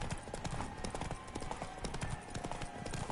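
Roach, Geralt's horse in The Witcher 3, races at a full gallop, with rapid, close, even hoofbeats pounding continuously throughout a short stretch of game audio.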